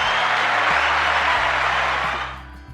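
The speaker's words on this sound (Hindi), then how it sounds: "तो जोरदार तालियां आपके लिए" Studio applause for a poet and anchor on a radio show, a broad hissing wash of clapping over a low sustained musical tone, steady for about two seconds before fading away.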